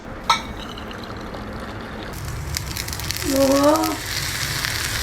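Poha chilla frying in oil until crisp, a steady close sizzle and hiss throughout, with a short tonal squeak midway and a brief knock at the start.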